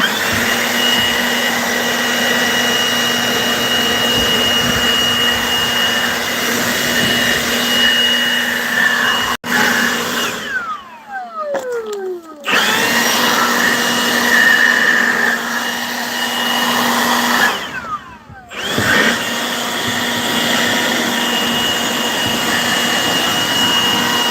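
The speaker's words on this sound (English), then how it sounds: "it's going to be noisy because we're going to be running the blower" Loud air blower forcing liquid out of a vehicle during a repair, a steady roaring whoosh that cuts out briefly twice, then resumes at full strength, with no talking over it.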